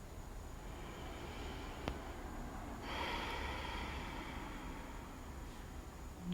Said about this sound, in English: And we'll take one breath to close out.